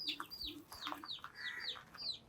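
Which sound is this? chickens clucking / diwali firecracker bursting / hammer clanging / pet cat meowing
chickens clucking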